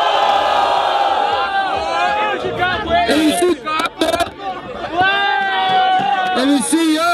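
Crowd at an outdoor street rap battle in São Gonçalo cheering and yelling for an MC's rhyme: loud, sustained shouts and whoops from many voices, rising and falling in waves with a brief dip midway.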